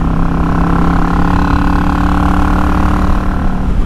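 A Yamaha XVS650 V-twin cruiser motorcycle engine running, a loud close steady low throb with a slight rise in revs, no talk.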